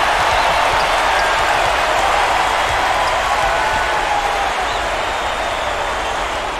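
Steady roar of a cheering arena crowd in the College Hoops 2K8 basketball video game during an NCAA Elite Eight matchup, a dense broadband wash of noise holding at a constant loud level throughout with no talk over it.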